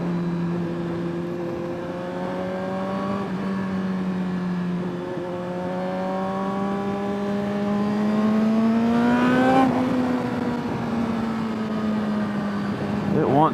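A 2022 Suzuki GSX-R1000R sport motorcycle engine hums steadily, then its pitch climbs as the throttle opens and revs rise, falling back slightly afterward; close and continuous.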